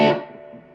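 A budget guitar practice amp with its overdrive switched on, a single distorted guitar chord struck loud and close, then ringing and fading out over reverb.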